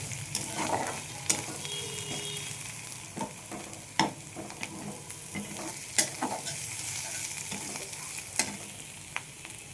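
Frying in a pan for a raw-mango fish kalia: a soft, continuous sizzle punctuated by sharp spatula scrapes and knocks at irregular intervals, close and fairly quiet.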